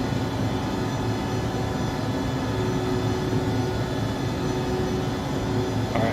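Jet engine drone from an Embraer E145 in the X-Plane 11 flight simulator, a steady loud broadband roar with a faint tonal whine throughout, no talking.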